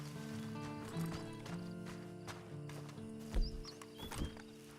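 Horse hooves clip-clop in Red Dead Redemption 2, a steady walking rhythm of soft thuds with a brief snort or whinny, heard at moderate distance over quiet game ambience.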